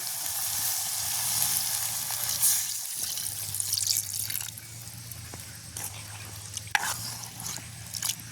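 Milk pours and trickles into a pot of boiling meat, with a soft steady sizzle and bubbling underneath and occasional drips and clinks.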